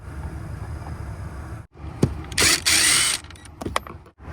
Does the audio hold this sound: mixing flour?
no